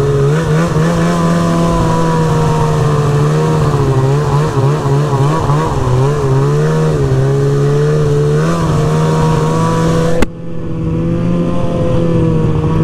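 A 2002 Ski-Doo MXZ 800 two-stroke snowmobile with a 144-inch track and MBRP can, ridden on late-season trails; its loud, close engine drones and wavers in pitch, then drops sharply to a quieter tone near the end.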